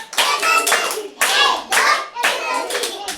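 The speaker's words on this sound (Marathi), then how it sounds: "टाळ्या वाजवा सगळ्यांनी" A group of children clap in three loud, close bursts of quick claps with short pauses between, mixed with their voices.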